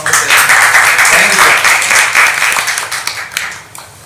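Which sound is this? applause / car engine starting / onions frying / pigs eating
applause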